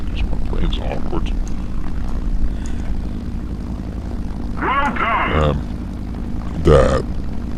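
A propeller airplane in a video game drones steadily as it comes in to land, the engine hum continuous throughout, with a couple of short vocal grunts and a brief voice near the end.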